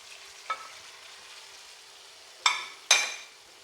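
Fried green plantain, drumstick and eggplant go into hot oil for a milky shukto, giving a soft, steady sizzle broken by three sharp clinks and scrapes of a stirring utensil against the pan, with no talking.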